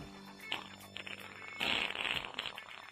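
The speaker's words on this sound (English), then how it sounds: "fart sounds will make it more fun." Fart sound effect played as a string of sputtering, buzzy bursts, a short one first then a longer wet blast, close and fairly loud with no talk over it.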